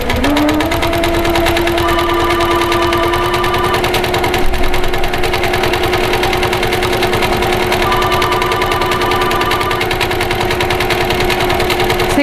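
A quilting sewing machine with a stitch regulator runs continuously and loudly up close, its fast needle chatter steady throughout with a sustained motor hum.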